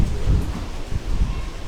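Heavy rain and rolling thunder in Jammu during an unusual May storm, a loud, close, continuous downpour with deep low rumbles swelling through it and no talking.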